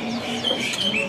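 Green lovebird chirping at a bird market kiosk in Medan, a few high, thin chirps close by over a steady low background hum of other birds.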